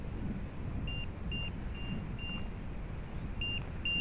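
A small electronic beeper on a crashed MJX Bugs 3 quadcopter chirps in short high tones, some paired and some single, over steady outdoor wind rumble in a park.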